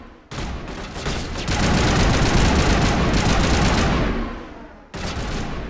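Sustained gunfire in Mass Effect Legendary, a dense, loud burst of rapid shots with overlapping booms lasting several seconds, then a short pause before another burst begins.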